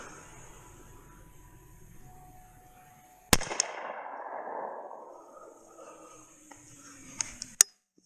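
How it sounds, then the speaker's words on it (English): A single sharp gunshot from a Rossi Survival single-shot rifle in .45 Colt at an outdoor range, aimed at a Monster energy drink can, cracks loudly and echoes away, followed by a couple of fainter knocks and clicks. "Let's do the monster can with the 45 Colt."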